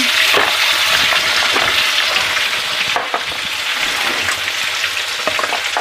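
Vegetables sizzle and crackle in a hot pan while being stirred until wilted, with scraping strokes breaking through the steady frying noise.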